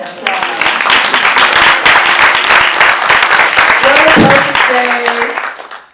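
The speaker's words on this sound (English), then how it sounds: "Let's give that a round of applause." A crowd at a climate finance summit panel gives a loud, sustained round of applause that holds steady for several seconds, with voices mixed in, then fades out at the end.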